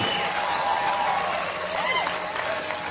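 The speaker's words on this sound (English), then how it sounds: "Get old man a round of applause." Crowd applause at a Les Brown motivational talk, a continuous, even roar of clapping from a large audience that fills the whole moment without easing.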